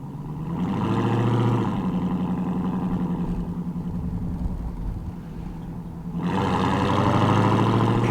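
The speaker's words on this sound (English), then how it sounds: "It's like you hear more supercharger than V8 sound." A 797-horsepower Dodge Challenger Hellcat Redeye with a supercharged V8 and Borla catback exhaust revs up near the car, eases back to a steady drone, then surges again with a strong engine growl and whine.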